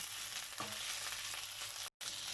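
Chicken stir-frying in a pot, giving a steady loud sizzle throughout with a brief stirring scrape near the start and no talking.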